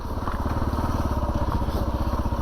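A 2022 Kawasaki KLR 650 motorcycle rolls slowly in first gear over rocky ground, its single-cylinder engine giving a steady, close, pulsing thump that runs unbroken throughout.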